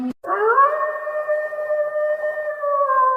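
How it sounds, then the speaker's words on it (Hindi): Jackals howl together as a horror sound effect, several long sustained wailing tones layered and drawn out, loud and close, holding steady after a brief sharp onset with no voices. "तभी वहां सियारों के रोने की एक साथ आवाज सुनाई देने लगी"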